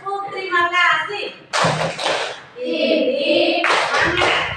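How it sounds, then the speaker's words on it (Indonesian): Schoolchildren in a classroom give a patterned thank-you clap in two short bursts of quick hand claps, with kids chanting and speaking between and around the claps. "Tepuk terima kasih."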